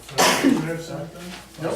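A single quick sneeze rings out near the start in a town council meeting room, followed by people talking briefly.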